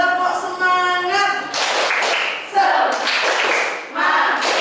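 A class claps together in a quick patterned rhythm, bursts of sharp claps separated by brief shouted chanting of "semangat," loud and close.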